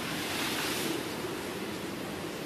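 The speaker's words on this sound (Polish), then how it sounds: "A to po prostu nazywa się cyklon, bo tak go nazwali." Cyclone wind and pounding surf in Mauritius, heard from a hotel room terrace: a dense, steady roar of wind and breaking waves, loud and unbroken with no voices.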